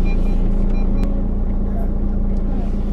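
Steady engine and road rumble from inside a moving car, a continuous low drone throughout with faint light knocks on top.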